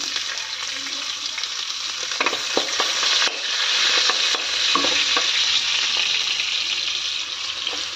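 Shredded cabbage and carrot fry in oil in a home kitchen pan, a loud continuous sizzle broken by repeated clatter of stirring, with no voices.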